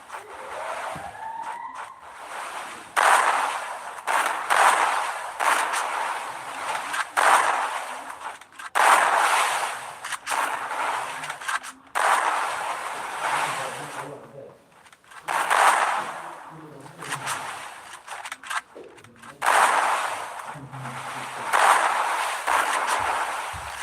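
Gunfire in a 4 vs 4 guild challenge in a shooting video game: repeated loud bursts of shots and game effects in close succession, with a player talking over them.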